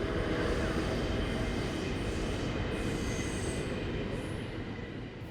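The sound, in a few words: train braking with high squealing tones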